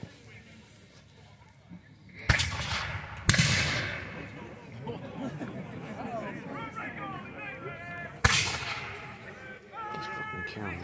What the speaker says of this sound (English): So here we're firing the militia by ranks.